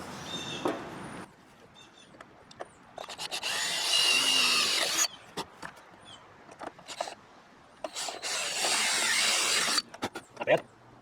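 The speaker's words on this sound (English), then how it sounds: "we've marked out our holes and we can drill these out" A power drill bores holes for mounting a replacement seat on a Wheel Horse 520H tractor, running in several loud bursts of a few seconds each with short pauses between them.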